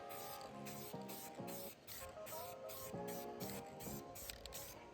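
A spray can lays light coats onto a 4th-generation F-Body car cowl panel in a string of repeated short hissing bursts, close and fairly steady, with brief pauses between passes.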